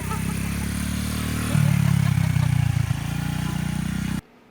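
A Honda XR50 pit bike engine drones as it is ridden on a hill, a steady mid-pitched putter that rises louder partway through before cutting off abruptly, with no voices.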